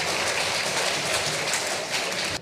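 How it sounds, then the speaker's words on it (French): A seated audience at a presentation on apprenticeships and craft trades gives a dense, steady round of applause for the speakers from two colleges, ending abruptly after a couple of seconds. "Vous remerciez tous les intervenants, remerciez les 2 collèges, vous pouvez les applaudir."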